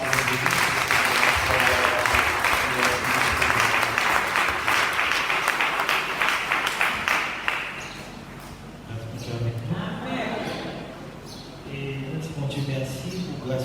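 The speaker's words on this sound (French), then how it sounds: "On a applaudi les Seigneurs." Congregation applause during a church service, dense steady clapping for several seconds that fades out, followed by voices and singing-like tones as the room quiets.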